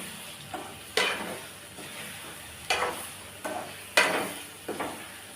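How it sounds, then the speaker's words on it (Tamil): Brinjal masala gravy stirred in a pan: several distinct scraping, clinking strokes of a utensil against the pan, spaced about a second apart, over a faint low sizzle. "இப்போ எல்லாத்தையும் சேர்த்து நல்லா கலந்து விட்டுறலாம்."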